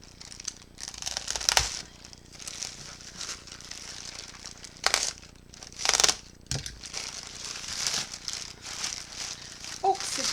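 Large plastic mailing bag being opened by hand, with soft crinkling, rustling and a few sharper tearing bursts at irregular intervals, close but fairly quiet, with no speech.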